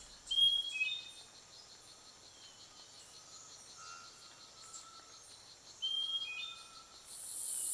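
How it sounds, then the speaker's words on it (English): Thin, high bird calls and steady insect trills of a dawn chorus sound faint and distant over a hushed Central American rainforest background, with scattered chirps and whistles overlapping. "The birds begin their chorus"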